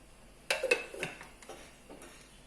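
A pan of oil is set down on a kitchen stove: a few close metallic clanks and knocks within about half a second, then quieter rattles fading to stillness.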